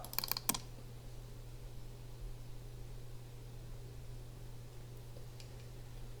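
A computer mouse gives a quick double click and another short burst of clicks right at the start, then one faint click later, all quiet over a steady background fan hum.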